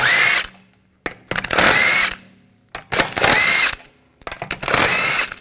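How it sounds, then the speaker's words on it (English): Power tool spinning out wheel lug bolts with a 17 mm socket on a 2007-2013 BMW 328i, four loud whirring bursts each about a second long, separated by short pauses with small clicks. "Take these lug bolts out."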